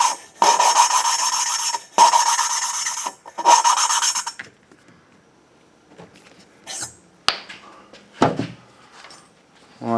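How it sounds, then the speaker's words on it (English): Valve lapping on a VW cylinder head with lapping compound: three loud gritty rasping strokes up close, then quieter scattered clicks and scrapes. "You can hear the valve change tone when it seats to the seat."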